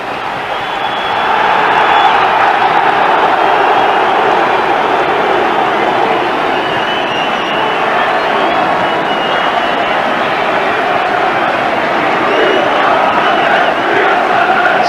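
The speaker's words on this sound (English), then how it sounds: "So as the teams are applauded under the pitch" Football crowd at Sunderland's ground applauding as Sunderland and Spurs walk out for a 1995 match, a steady, dense roar and clapping from a large crowd that holds constant throughout.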